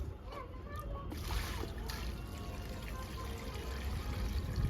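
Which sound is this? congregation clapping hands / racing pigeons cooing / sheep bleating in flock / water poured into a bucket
water poured into a bucket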